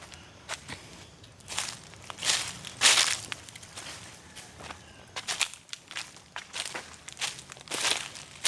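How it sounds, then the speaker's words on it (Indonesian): Shoes crunch and rustle through dry leaves in a steady walking rhythm, crisp and close, with no talking, beside a huge tree about 3 meters in diameter at a sacred site in Temayang, Bojonegoro. "Ini ada suara kresek-kresek, suara sepatu saya menginjak daun."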